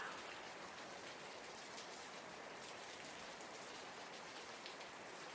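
Steady rain falls as a dense, even hiss of drops, soft and constant, with no voices or other sounds.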